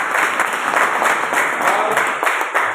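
Loud, dense clapping from an indoor audience at a business training program at a hotel in Maithon, a steady continuous roar of many hands with no speech over it.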